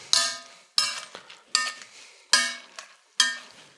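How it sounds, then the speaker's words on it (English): Cauliflower mash being stirred in a pot, five evenly spaced metallic clinks of a utensil against the pot with brief scraping after each, close and clear with no talking. "A little stir."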